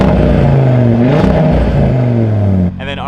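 An Audi RS3 engine with an aftermarket full exhaust, valve closed in normal mode, revs loudly with a deep, muffled exhaust rumble that rises and falls, then drops off near the end.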